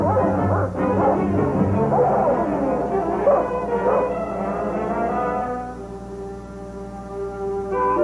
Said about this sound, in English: Pancho had treed Kelso just like he would any other varmint